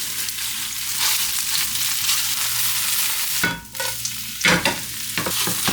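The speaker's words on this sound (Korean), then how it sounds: "남은 거 부추 전이나 이렇게 해서 부쳐 먹자." Chive and leftover clam pancake batter sizzles and crackles steadily in a hot pan, with a couple of louder bursts of spattering partway through.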